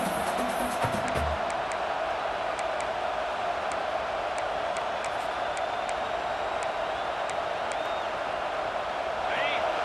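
A stadium crowd in the College Football 26 video game roars in a steady, sustained wash, with a commentator talking over it throughout.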